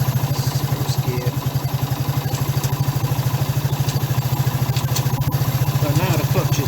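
A Suzuki GN 125 motorcycle engine runs close by in gear with a steady, even low thumping pulse and a faint mechanical clatter throughout.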